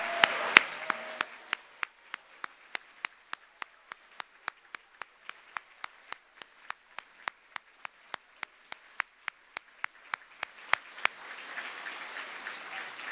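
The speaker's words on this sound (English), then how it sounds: "let us give them a big round of applause with those little plastic things we get to shake" At an awards event honouring women in innovation, sharp isolated clicks ring out at a slow, regular beat, one after another, over a quiet background that builds into a soft crowd clatter near the end.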